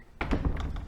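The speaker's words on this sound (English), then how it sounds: "like to close the door behind you" A heavy wooden church door swinging shut inside a dark English country church in East Sussex, a dull close thunk followed by a brief resonant settling in the quiet nave.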